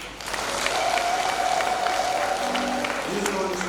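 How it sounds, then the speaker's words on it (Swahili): A church congregation claps in sustained applause during a Catholic thanksgiving Mass for a nun's perpetual vows, with a voice speaking briefly over it near the end. "Pigie Mungu makofi."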